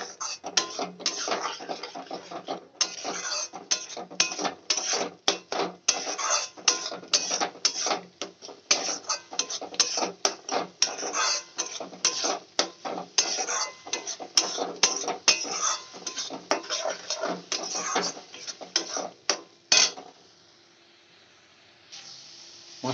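Spice masala for a wedding-style catla fish kalia being stirred and fried in a pan, with dense, continuous metal scraping and clinking for about twenty seconds before the sound drops to a quiet hiss.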